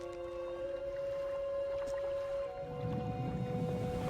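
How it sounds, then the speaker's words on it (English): Narwhal calling under the ice in the fishing game Dredge, a faint sustained tonal whine with steady pitch over a low watery ambience, distant and eerie, with no talking. "Oh, that is a narwhal."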